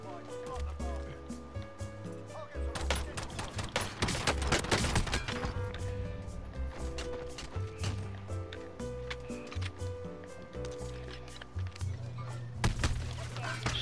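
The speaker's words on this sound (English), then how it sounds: "I'm getting shot from up here" Dense, rapid gunfire bursts and impacts fill a Call of Duty: Warzone match, with frequent overlapping shots under game music and sound effects while players talk over the action.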